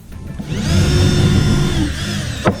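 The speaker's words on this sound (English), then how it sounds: "The reason why we drill pilot holes is so when we drill down in, we do not break the wood" A power drill boring a pilot hole in wood whirs steadily for about two seconds, close and loud, then winds down, followed by a short knock.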